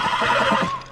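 A single horse whinny from the video game The Last of Us, a short, close, shrill neigh lasting under a second.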